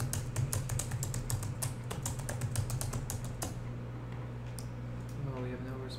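Rapid clicking of computer keyboard keys, a dense run of sharp taps that thins out toward the end, close and clear with faint background hum.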